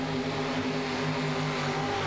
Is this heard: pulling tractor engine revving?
yes